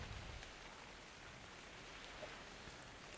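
Steady rain falling in the survival game Ark Survival Evolved on an Xbox One, a faint, even hiss of drops that holds without a break across the whole stretch, with no voices over it.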